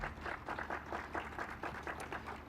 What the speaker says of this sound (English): Big hand of applause for Carrie.